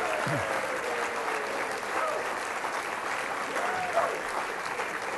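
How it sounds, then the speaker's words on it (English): Audience applause for junior medical officer award nominees from the Central Coast at a health awards ceremony, a steady, dense wash of many hands clapping throughout, moderately distant and even in level. "Give them a round of applause"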